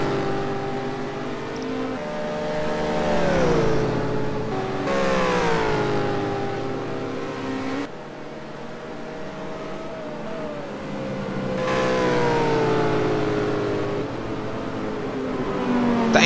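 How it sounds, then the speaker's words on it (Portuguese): Race cars in a sim racing video game at Watkins Glen, engines droning and shifting pitch as several cars pass in waves, steady and loud with no talk. "Tá a imagem da passagem dos carros."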